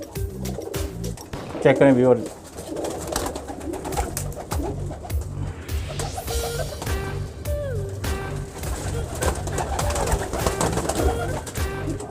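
Many breeding-pair pigeons cooing in a loft, with repeated throaty coos layered close by alongside a brief wing flutter and shuffling, while someone talks over them throughout.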